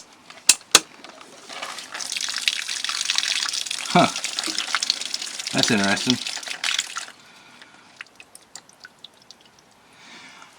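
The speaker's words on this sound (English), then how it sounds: "why did more water come out of there?" Water sprays and hisses from a tiny hole in a leaking plumbing fitting, a steady rush lasting several seconds before cutting off, with brief drips after and someone speaking over it.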